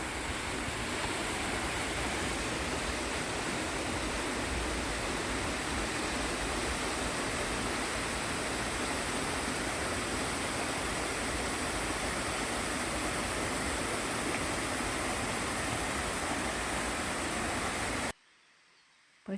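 A waterfall on Flores pours into a wide rock basin below, a dense, steady roar of rushing water filling the whole spectrum, loud and unbroken, cutting off abruptly just before the end.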